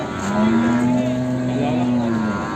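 A one-year-old buffalo calf at a buffalo market lets out one long, steady bawl lasting about two seconds, close and clear over a faint background hum.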